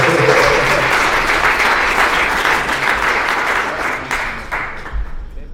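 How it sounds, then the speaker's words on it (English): A live audience at a flight lounge event gives a loud, dense round of applause. The clapping is strongest at the start and gradually thins and fades over about five seconds. "give me a round of applause"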